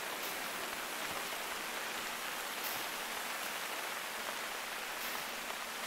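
Steady, dense rainfall in the video game theHunter: Call of the Wild hisses evenly throughout, a constant wash of drops with no voices or other sounds breaking through.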